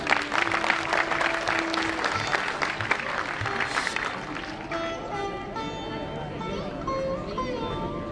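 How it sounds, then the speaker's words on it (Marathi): Audience applause at a Konkan cultural festival: a dense, steady burst of crowd clapping that fills the space, with voices and a sustained musical tone mixed in beneath it. "सगळ्यांनी जोरदार टाळ्या वाजवा"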